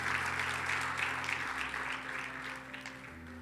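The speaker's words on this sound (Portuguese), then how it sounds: "Aplauda ao Senhor" A church congregation applauding during a Brazilian worship service, dense continuous clapping over a low sustained organ-like keyboard chord, gradually tapering as the applause fades.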